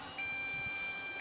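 Single sustained electronic beep lasting about a second, the low voltage warning of an MJX Bugs 6 brushless FPV drone, clear over a faint rushing background.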